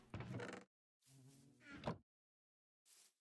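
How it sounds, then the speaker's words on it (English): Bees in Minecraft Java Edition make three short, close buzzing bursts separated by brief silences, the last one fainter and thinner. "Looks like we have bees in the area."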